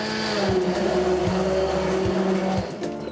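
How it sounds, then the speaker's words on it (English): A stick blender purees soft simmered squash soup in a pot, its steady motor whine running loudly and continuously with slight pulsing dips in pitch as it churns, no one speaking over it. "Once it's ready, I'll use a stick blender to puree that all together."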